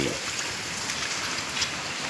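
Heavy cyclone rain pours steadily as a dense, even hiss with no pauses, close and loud throughout, during flooding with water entering homes.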